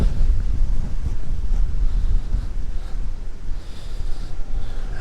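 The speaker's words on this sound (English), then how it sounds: "It's still blowing a gale in Sydney today." A strong gale blows through Sydney, buffeting the microphone with loud, continuous low rumbling gusts that barely ease over a few seconds, with no voices.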